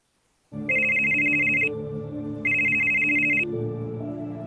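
A telephone ringtone rings loud and close in two long electronic bursts, each lasting about a second, over a steady background of music-like tones that continues between and after the rings.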